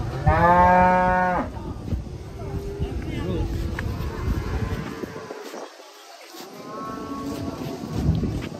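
Large jumbo cattle moo loudly and close by, with a long drawn-out low call and further moos later, over wind noise and people talking nearby.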